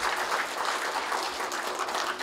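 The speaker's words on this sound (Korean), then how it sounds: "여러분 백승종 회장님한테 크게 격려의 박수 좀 부탁드리겠습니다" A crowd at a year-end hometown association gathering in Incheon applauds in a full, dense, continuous burst of clapping with no voices over it.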